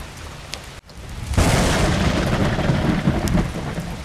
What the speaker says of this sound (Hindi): आज तो कितनी तेज बारिश हो रही है